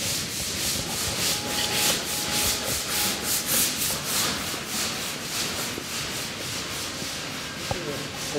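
Hand sanding and polishing of a vehicle body part for a SkyWay unibus, a rhythmic series of scratchy back-and-forth strokes, close and steady, with no talking.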